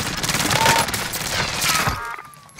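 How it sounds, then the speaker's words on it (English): Rapid bursts of gunfire in Call of Duty Warzone crackle densely and loudly for about two seconds, then cut off into a quieter tail with faint game ambience. "Fire pulled up on you, Wavy. Rounds incoming"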